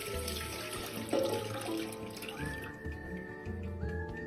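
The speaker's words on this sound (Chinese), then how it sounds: "锅内倒入800毫升清水" Clear water, 800 ml, poured into a pot for pandan longan pudding, a close, fairly quiet splashing stream that shifts in pitch as the pot fills.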